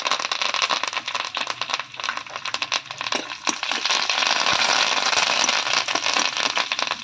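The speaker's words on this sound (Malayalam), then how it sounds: "കടുക് താളിച്ചതെല്ലാം റെഡിയായി വന്നിട്ടുണ്ട് അതിലേക്ക് നമുക്ക് കുറച്ച് കറിവേപ്പില ഒഴിച്ചു കൊടുക്കാം" Curry leaves hit hot tempered mustard seeds in oil for a Kerala jackfruit-seed thoran, giving a loud, dense, continuous crackle and sizzle with sharp pops throughout.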